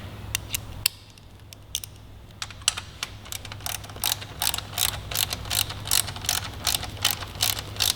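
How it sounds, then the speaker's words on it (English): Quarter-inch drive ratchet tightening a bolt on a 2018 Suzuki GSX-R1000 during a throttle kit install, a steady run of close, crisp pawl clicks that quickens and grows louder after a brief pause, with no talking. "Just going to use a quarter drive ratchet to torque this down."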